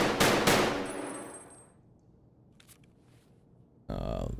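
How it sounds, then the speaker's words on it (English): A quick burst of automatic gunfire in Escape From Tarkov, loud and dense for about a second and a half, then fading into quiet, with a brief mechanical clatter and a loud rustle near the end. "I'll shoot really quick just to show it"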